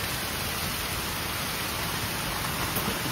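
Heavy monsoon rain pours down steadily in rural Konkan, a constant close, loud hiss and patter with no pauses or voices.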